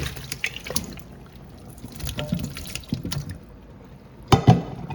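Water from an ice-water bath for blanched zucchini and squash splashes and trickles intermittently as it is poured out, like into a sink, with a louder gush near the end.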